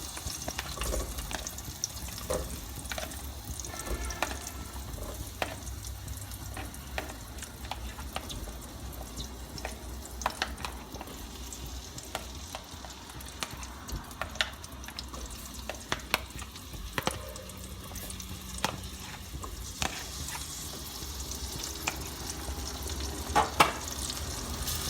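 Onions fry in a pan for chicken dum biryani, a soft continuous sizzle with occasional stirring scrapes and clicks throughout, fairly quiet and close with no talking.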